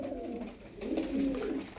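Pigeons, pure black birds kept for sale, coo in a soft, low, warbling call that swells and fades over a brief moment, close by and alone.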